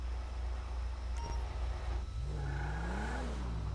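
A car in Grand Theft Auto 5 pulls away, its steady engine hum rising in pitch as it accelerates, heard alone against a constant low drone.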